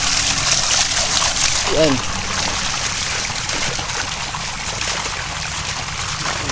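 Strong flowing water rushes steadily and fairly close, a dense continuous wash with splashy texture throughout, while a person speaks briefly over it near the start.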